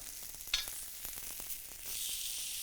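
Steak searing in a pan, ready to flip with a crusty side, gives a steady sizzle with faint crackles, a brief louder pop near the start, and a brighter, fuller hiss toward the end.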